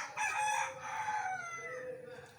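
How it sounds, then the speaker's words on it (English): A rooster crows in one long, loud call lasting about two seconds, clear and fairly close, with no talking over it. "that is the fowl giving you the wake-up call."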